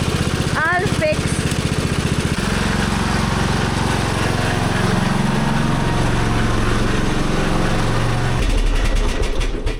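Old tractor engine running steadily with a low, even chugging drone that shifts pitch partway through, close and loud, while people talk over it.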